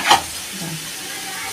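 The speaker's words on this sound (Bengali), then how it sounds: "হালকা করে ভাজবো আমি, কাজু কিশমিশ হালকা করে ভাজবো, বেশি কড়া করবো না।" Cashews and raisins frying lightly in a pan make a brief, soft sizzle after a quick metallic scrape at the start, fading to a faint, steady hiss.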